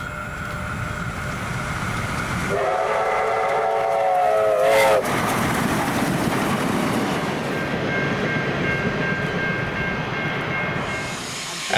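A Steamrail Victoria steam train on the Eureka Express runs past Dunstown near Warrenheip Junction, sounding a loud, sustained whistle blast before the heavy rumble and clatter of the passing train carries on.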